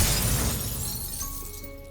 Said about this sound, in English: The mirror shatters into countless pieces, shards that can never be restored.